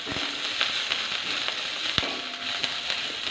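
Moringa leaf curry being mixed in a pan on the stove, a soft steady sizzle with sparse sharp clicks of a spoon against the pan, no talk.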